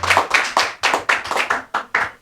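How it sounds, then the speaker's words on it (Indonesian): Audience applause at a political party officials' gathering in Malang, a burst of loud, rhythmic, close-up clapping with sharp repeated hand claps across the whole stretch. "Aplaus yang keras dong"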